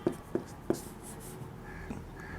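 Handwriting on paper with a pen: a few close, sharp taps and scratches of the pen, with a faint voice in the background.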